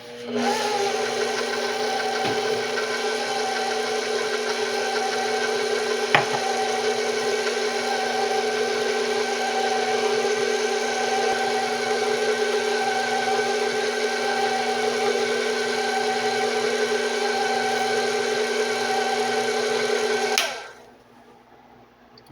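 Electric mixer on its lowest speed combining pound cake batter and flour, a steady droning whir running evenly for about twenty seconds before it cuts off abruptly, leaving near silence.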